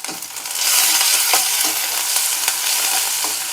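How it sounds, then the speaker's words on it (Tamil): Chopped onions and curry leaves fry in hot oil for a Tamil kulambu, making a loud, dense, nearby sizzle with occasional stirring scrapes throughout and no voices. "இப்போ நம்ம கட் பண்ணி வச்சுருக்கிற வெங்காயத்தையும் கொண்டு சேர்த்துடலாம் அதில் கருவேப்பிலை சேர்த்து நல்லா வதக்கி விட்டுடலாம்"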